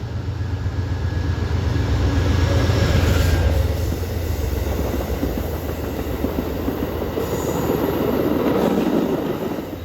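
A long freight train rumbles past below a highway bridge on the New River Subdivision, loud and continuous, with a low steady roar, rolling wheel clatter and a brief faint squeal near the start.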